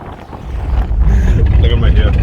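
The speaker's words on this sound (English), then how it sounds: "It's so windy." Strong wind at the Blue Star ferry port buffets the microphone in a loud, low rumble that swells after the first second, with faint voices mixed in.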